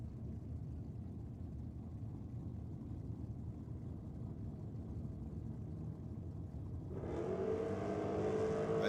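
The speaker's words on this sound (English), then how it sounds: "Big block Chev on board for Hatzanacolis" Drag racing car with a big block Chevrolet engine at a drag strip, a steady loud engine rumble that swells into a harsher, brighter roar near the end.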